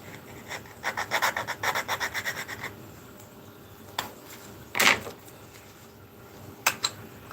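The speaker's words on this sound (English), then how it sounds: "I'm just filing some of this super glue off" Short rasping strokes of a hand file scraping leftover super glue off a scale model, a quick burst of repeated strokes close up, followed by a few sparse knocks and scrapes.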